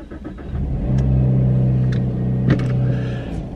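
A car drives along with a steady, close mid-pitched engine hum and low road rumble that holds throughout, rising slightly in revs partway through.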